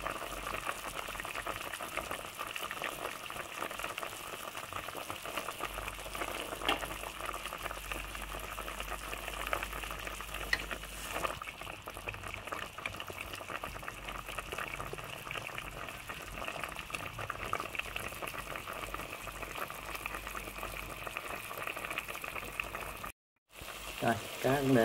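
Fish kho with tomato simmers in an uncovered pot, giving a soft, continuous bubbling and light sizzle that stays faint and steady until a short break near the end.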